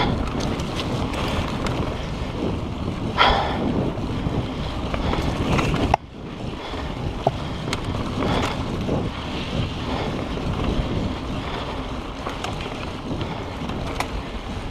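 Strong wind of about 30 mph blows on a cold day out on a mountain bike ride, buffeting the microphone with a loud, steady low roar that lasts the whole time with no talk.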